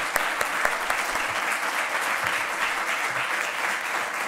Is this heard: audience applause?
yes